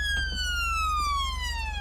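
A police car siren from GTA V wails loudly and steadily, its bright tone gliding slowly downward with no voices over it.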